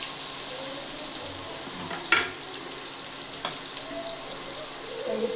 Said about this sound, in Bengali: সয়াবিনগুলো দিয়ে দিচ্ছি।